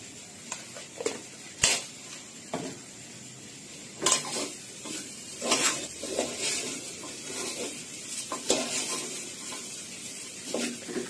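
Rice and lentils with turmeric, red chilli and cumin powders stirred in a pot for vegetarian khichuri, a spoon scraping and clinking against the metal in irregular strokes with faint sizzling between them, close and alone.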